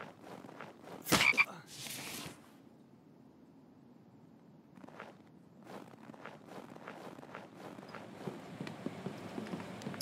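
Frog croaks in the survival video game The Infected, a loud burst early on followed by scattered quieter croaks and footstep-like rustles over a low ambient bed.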